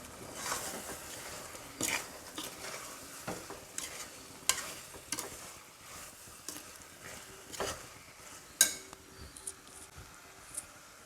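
A spoon stirs prawn gravy with ginger and garlic in a hot pan, scraping and clinking in irregular strokes over a steady low sizzle, close and fairly quiet with no voices.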